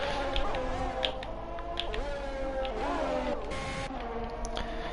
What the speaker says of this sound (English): is very awkward revving that you can not only hear from the inside but from the outside of the car as well